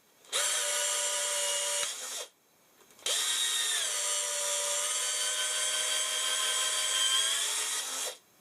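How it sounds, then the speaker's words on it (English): A power drill whines steadily in two bursts while drilling out a part during a fuel tank fitting, a short run, a brief pause, then a longer run, close and loud. "Then I can drill this out a little bit."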